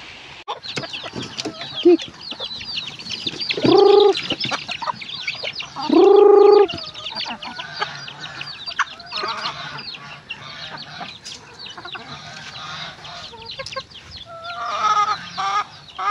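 Pet chickens cluck and squawk close by at feeding time by a hut, with a couple of louder drawn-out calls standing out over steady background clucking and bird chatter.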